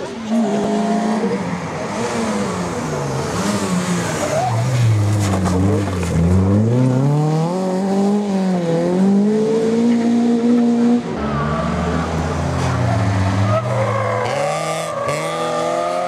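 A rally car races flat out on a stage of the Havellandpokal rally, its engine loud and close, revving and shifting through rising and falling pitch with tire noise, while a commentator talks over it.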